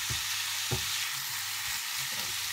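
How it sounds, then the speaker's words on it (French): Food frying in a pan for Turkish pizza, a steady loud sizzle with a few soft scraping knocks as it is stirred, close and continuous with no talk. "Je commence à mélanger un peu."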